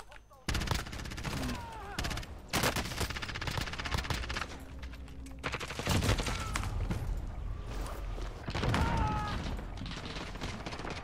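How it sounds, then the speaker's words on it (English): Rapid, loud gunfire in the game Warzone: dense volleys of shots keep coming almost without pause, broken by brief gaps, close and harsh over a steady game din. "Wow, a shotgun?"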